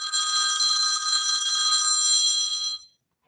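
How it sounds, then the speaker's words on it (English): A phone rings with a steady, bright electronic trill that carries loud and unbroken for nearly three seconds, then cuts off cleanly into silence, heard alone. "There goes somebody's phone."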